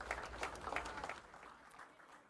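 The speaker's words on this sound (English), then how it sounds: "Let's give them another round of applause." Audience applause at a ribbon-cutting ceremony for a school opening, a brief burst of clapping that is loud at first and fades over about two seconds.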